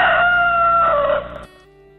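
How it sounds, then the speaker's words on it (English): A rooster crows loudly and close, one drawn-out call that trails off abruptly. "Rooster, cock."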